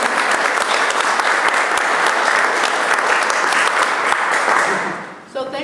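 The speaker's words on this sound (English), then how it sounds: "I want to start off by a round of applause" Sustained applause from a crowd, dense and steady clapping for several seconds before it fades out at the end.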